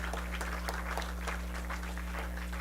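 Applause from a crowd at the 33rd Arya Mahasammelan, a steady wash of clapping heard faintly through a constant low electrical hum.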